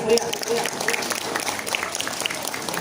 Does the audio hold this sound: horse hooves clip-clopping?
no